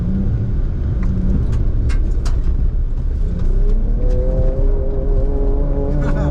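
A pickup truck engine rumbles loudly and then revs up, its pitch climbing steadily over a constant throaty drone.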